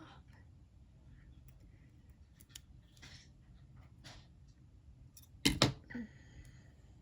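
Scissors cut paper for a vertical planner page, giving one sharp, close snip near the end of a quiet room with light rustling.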